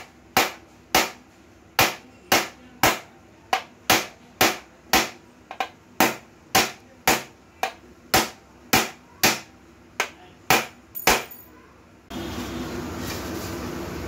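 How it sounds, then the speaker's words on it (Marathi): A small hammer knocks a dent out of a Suzuki Access 125 scooter body panel, landing about twenty sharp, evenly spaced taps close by, followed by a stretch of steady noise at the end. "त्यापेक्षा छोट्या हातोडीने हळू मारून दाबायचं आहे असं"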